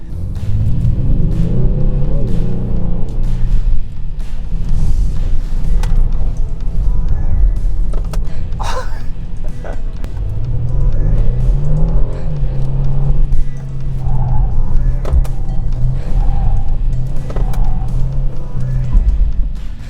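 A car engine revs and rumbles as the vehicle on sports tires weaves through a slalom in comfort mode, pitch rising and falling with each change of direction, close and continuous.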